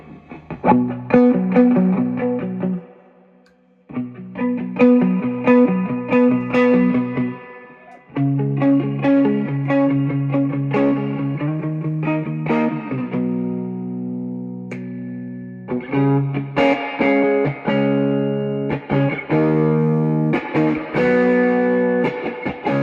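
An electric guitar runs through the vibrato channel of a 1978 Fender Deluxe Reverb amp, playing sustained chords and melodic phrases with a hairy, slightly distorted edge and reverb tails, loud and close, with one short pause early on.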